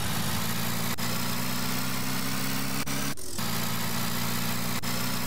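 A car idling in a Roblox game, a loud, steady low engine drone that runs unbroken with a brief dropout near the middle, close and alone.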